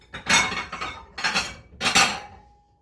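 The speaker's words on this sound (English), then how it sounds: "Let me get a dish." Dishes clink and clatter in a kitchen, three distinct bursts of bright rattling as a dish is pulled out after cooking a one-pot chicken meal in an Instant Pot, fairly close, with no talking.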